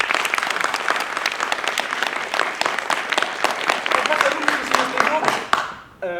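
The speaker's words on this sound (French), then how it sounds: "Je peux vous applaudir pour ça, je pense." An audience at a theatre competition show gives dense, sustained applause that stays even and loud and then cuts off sharply near the end, with a voice faintly present underneath.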